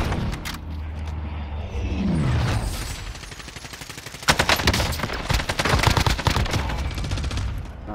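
Rapid automatic gunfire from a Call of Duty Warzone match, AK47 in play, with dense bursts of shots, some close and loud, others sharper, rattling on and off across the stretch with game ambience underneath.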